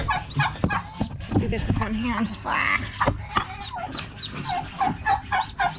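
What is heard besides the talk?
ducklings chirping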